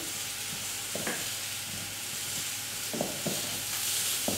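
Spinach wilting in a pan gives a quiet, steady sizzle, with a few soft scrapes and taps from stirring, all close and without talk.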